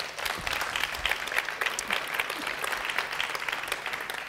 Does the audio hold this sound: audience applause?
yes